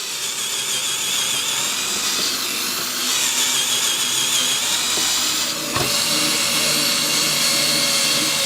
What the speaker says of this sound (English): The power drill can be connected to the lead-acid battery directly via these mounting posts here.